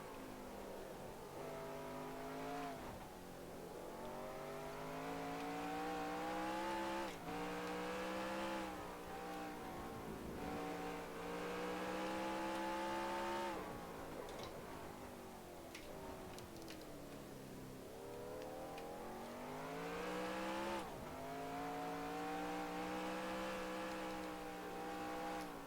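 A single race car circling the track during a 1998 Save Mart/Kragen 350 stock car race, its engine note rising and falling continuously through gear shifts and corners, droning steadily with no voices.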